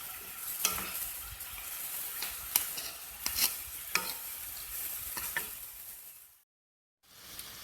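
Shrimps and onions frying in a pan, a steady close sizzle with frequent spatula scrapes and taps, dropping briefly to silence before resuming.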